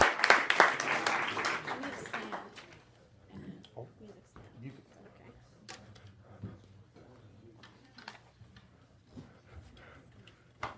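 Applause for a singer at a small gathering: a burst of clapping that fades within a few seconds, then scattered taps, murmurs and room noise under quiet chatter.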